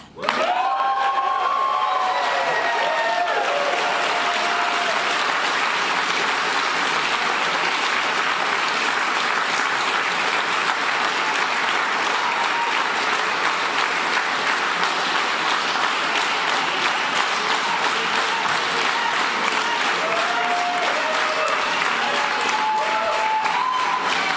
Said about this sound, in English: I don't think you guys at home are clapping for CHRYSTIA here.